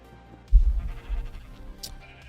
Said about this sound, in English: Should start shearing the sheep.